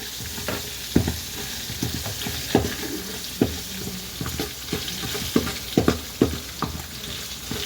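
Curry leaves and green chilies frying in hot oil for a puffed-rice dish, giving a continuous sizzle broken by repeated sharp spoon knocks and scrapes against the pan, close and with no talk.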